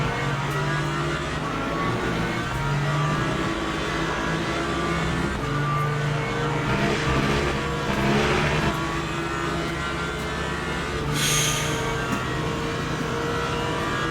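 Racing game engines, a Corvette among them, droning continuously at close range with steady revving and shifting pitch, plus a brief whoosh near the end as a car passes.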